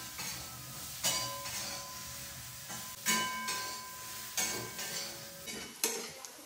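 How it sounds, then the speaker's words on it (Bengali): Onions frying in oil in a home kitchen for khichuri, a low, steady sizzle broken by several clinks and scrapes of a utensil against the pan at irregular intervals. "এই যে পেঁয়াজগুলো তেলের মধ্যে দিয়ে লাল লাল করে ভেজে নিই।"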